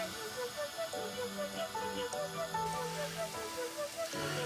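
Onions fry in a pan with a steady, soft hissing sizzle that continues throughout, while music with a melodic line plays over it.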